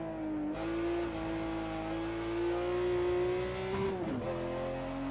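A BMW 1M Coupe engine in the Project Cars 2 racing game at Bathurst, a loud sustained drone that holds steady pitch, dips and climbs with a brief gear change near the end, with no one speaking.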